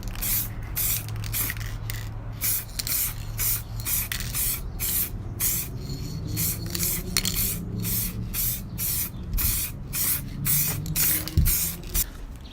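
Rapid bursts of aerosol spray paint hiss onto a car door latch for a 1985 Toyota Supra, short repeated blasts close up, steady and fairly loud with no talking.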